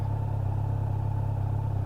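Steady low engine drone of a Kawasaki Z900 motorcycle while riding, an even pulsing rumble held constant throughout with no voices.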